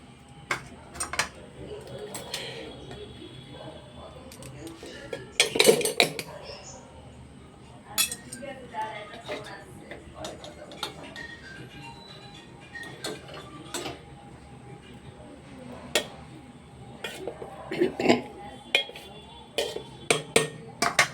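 Metal utensils clink and scrape against a pot as biryani rice is mixed in layers, with irregular bursts of sharp knocks between quieter stretches. A voice talks faintly in the background.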